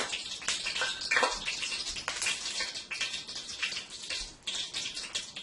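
Chicken and beef pieces hit melted coconut oil in a pot for Guyanese-style fried rice, giving a steady, close crackling sizzle with bursts of spatter that runs throughout.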